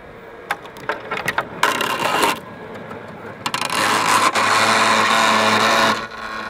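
A Worx Landroid robotic lawn mower runs over a stick on a lawn, giving a series of sharp cracks and splintering knocks followed by a loud grinding scrape and whir as the blade chews through it, with no talk.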